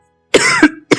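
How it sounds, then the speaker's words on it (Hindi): A man with a slight cold gives a few close, harsh coughs in quick succession, with brief pauses between the bursts. "थोड़ी सी सर्दी लगी हुई है, इसलिए खांसी आ रही है।"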